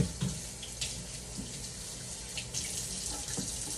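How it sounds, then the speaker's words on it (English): A fork rinsed under a running kitchen tap: a steady rush of water with a few brief splashes and clinks as it passes through the stream, close and alone. "run and wash this off"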